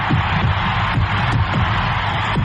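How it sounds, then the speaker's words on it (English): Sellout ballpark crowd cheering Henry Aaron's record-breaking home run, a steady dense roar of many voices with no clear peaks. "A sellout crowd is cheering Henry Aaron, the home run king of all time"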